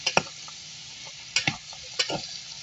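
Pinakbet vegetables, including chopped squash, going into a pan of sautéing garlic, with a steady frying sizzle broken by a few sharp clanks and scrapes of stirring.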